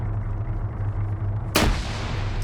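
A grenade blast in a multiplayer military shooter match goes off suddenly partway through, a sharp loud explosion with a rumbling tail over steady low game ambience.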